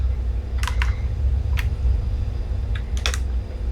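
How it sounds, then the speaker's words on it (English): The spacebar of a computer keyboard pressed: a handful of sharp plastic clicks, a pair, a single, then another short cluster, over a steady low hum. "Spacebar, there we go."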